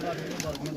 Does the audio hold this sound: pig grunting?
no